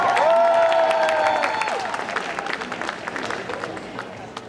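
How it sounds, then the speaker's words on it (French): An audience at a cosplay contest at an otaku festival in Châlons applauds a Galopa cosplayer and her trainer, steady clapping under a sustained cheer, with an announcer's voice heard over it. "Applaudissements pour Galopa et sa dresseuse"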